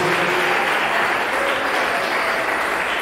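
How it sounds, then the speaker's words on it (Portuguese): A church congregation claps together in sustained, dense applause praising Jesus during a worship service, steady and loud throughout with no break. "Dê uma salva de palmas, uma alegria para Jesus"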